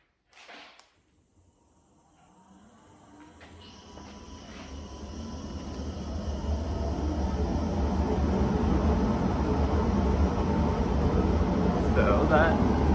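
A small workshop dust collector spins up from quiet after a brief click, its steady rushing air noise and low hum building over several seconds into a loud, constant roar.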